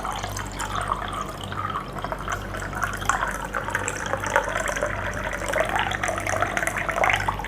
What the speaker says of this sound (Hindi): जैसे जैसे पानी गिरेगा तो इसकी आवाज़ को भी फ़ील करना है